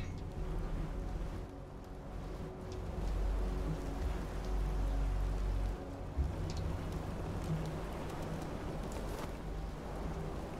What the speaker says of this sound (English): When did it start raining?